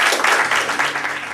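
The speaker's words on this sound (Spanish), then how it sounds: "lo recibimos con un gran aplauso" Audience applause welcoming a marinera dance performance at a book presentation event, a dense steady wash of many hands clapping at close range, filling the whole moment without pause.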